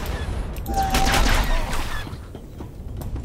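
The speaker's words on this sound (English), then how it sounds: "I'm being shot at." Blaster gunfire in the Star Wars The Old Republic video game, a burst of rapid shots and bright crackling impacts over a steady game soundscape, fading into quieter background noise.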